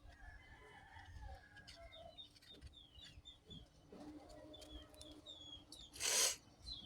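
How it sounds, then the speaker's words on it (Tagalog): Chickens cluck softly in the distance amid outdoor birdsong, with one brief louder squawk near the end. "Tsaka may mga manok din na alaga si papa ko."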